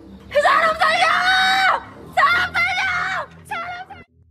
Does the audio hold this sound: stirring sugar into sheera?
no